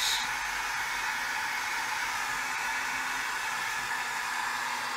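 A hair dryer on a low setting gives a steady, close, unbroken airy whir and hiss from start to finish, with no talking.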